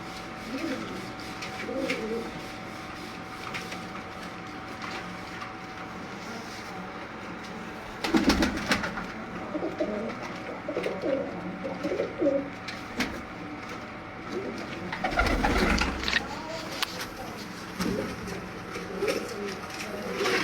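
Batera pigeons, a mix of females and a breeding male kept by a pigeon seller in Sialkot, cooing in repeated rolling phrases close by. Someone talks between the calls, and there are occasional loud bumps and rattles.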